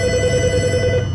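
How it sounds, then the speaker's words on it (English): A telephone rings with a steady, sustained electronic tone over a bed of broad background noise, heard alone without speech for about a second. "Phone's ringing."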